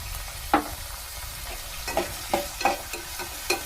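Kima (minced meat) curry fries in a pan under a steady sizzle, while a spoon stirs it with several sharp scrapes and knocks at irregular intervals.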